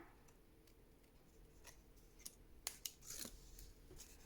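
Scissors snip through craft material in a quiet room while holiday decorations are being made, giving a brief cluster of sharp, faint cuts near the middle of an otherwise hushed moment.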